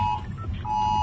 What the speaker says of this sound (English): It's the emergency test alarm.